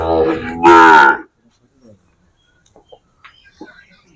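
A loud, drawn-out moo from a Sahiwal cow up close, followed by quiet rustling and faint scattered sounds.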